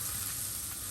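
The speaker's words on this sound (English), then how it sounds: "So it's gonna be a bit of a shallow fry." Food shallow-fries in olive oil with a steady, close, hissing sizzle that fills the brief moment.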